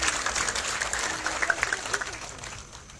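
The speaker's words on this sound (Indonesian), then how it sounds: "Kita tepuk tangan sekali lagi untuk kemuliaan Tuhan." Congregation applause at a church revival service: a crowd claps in a fairly even patter, with a few sharper individual claps standing out mid-way before the sound fades off.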